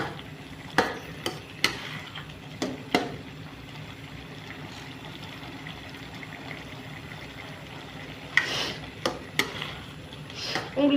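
A bottle gourd curry with peanuts and cashews simmers in a pan, a soft, steady bubbling hiss broken by scattered sharp clicks and light taps.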